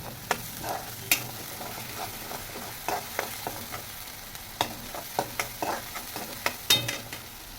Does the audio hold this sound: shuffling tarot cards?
no